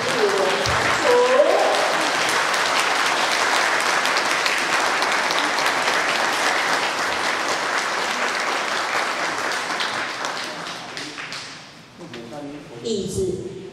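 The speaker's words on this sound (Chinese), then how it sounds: "让我们热烈的掌声，鼓励老师的演讲活跃参与" A large audience applauds steadily and loudly at a hymn concert, a dense wash of clapping that holds for several seconds before thinning out, with a voice emerging near the end.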